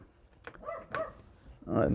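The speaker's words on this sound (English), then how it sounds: "dog is barking." A dog barks a few short, separate times in the background of an indoor room, fairly faint and mixed with a person talking.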